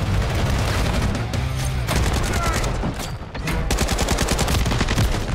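Automatic gunfire sprayed in Call of Duty MW3, on the Stash House map, loud dense bursts of rapid shots that dip briefly partway through and then resume just as heavily.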